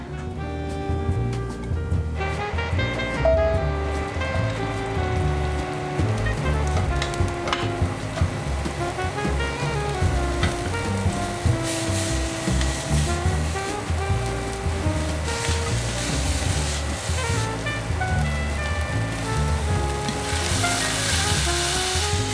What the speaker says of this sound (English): Okay, now to go fry it up.